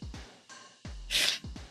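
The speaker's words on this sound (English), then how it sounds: "my partner's sneezing is going crazy right now" A partner sneezes repeatedly in quick succession, several sharp close bursts with a harsh hissy peak in the middle of the run, alone with no talk.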